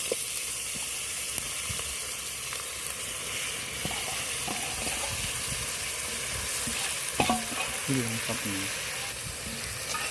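Clam meat sizzles and crackles steadily in a hot pan as it is stir-fried for a seashell thokku, with continuous frying hiss and occasional stirring scrapes, close up and without talk.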